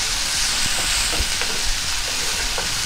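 Chopped tomato sautés in a pan while Goan clams with coconut are being cooked. A dense, loud sizzle runs steadily throughout, with faint scrapes of stirring and no voices.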